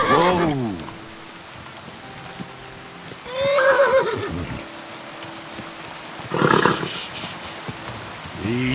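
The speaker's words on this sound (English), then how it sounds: "Easy, good horse." A horse in the video game Kingdom Come Deliverance 2 whinnies loudly in several bursts, one near the start, another mid-clip and a final sharp squeal, with faint clip-clop and ambient noise between.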